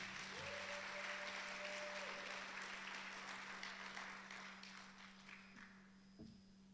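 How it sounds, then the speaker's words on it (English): Sustained applause from a large conference audience, dense clapping that slowly tapers off, with a steady hum underneath. "a big round of applause for IPM, please"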